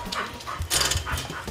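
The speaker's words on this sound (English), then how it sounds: "She's an American bulldog too." An American bulldog gives short barks and vocal bursts at close range, with a panting, whimpering quality, during a hog hunting outing.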